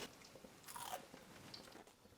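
Someone bites into crunchy fried mushrooms dusted with zesty chili salt, giving one sharp crisp crunch followed by soft chewing, close but quiet.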